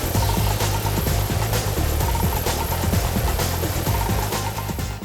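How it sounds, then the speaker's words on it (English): A police helicopter thuds overhead during a chase, its rapid rotor chop steady and fairly loud throughout the clip. "All cars and even the police chopper are getting in on the act."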